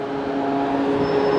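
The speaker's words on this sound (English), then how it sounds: "And that's the sound of a fan, the motor turning the fan so it works." Steady motor hum from a large Montreal Metro air vent fan at street level, a continuous loud drone with tonal whine and even rumble throughout, no voices.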